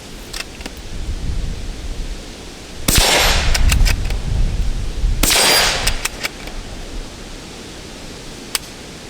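Two loud gunshots from a Marlin 25 MN .25 caliber rifle, each a sharp crack followed by a short rumbling tail, fired about two and a half seconds apart outdoors with no talking.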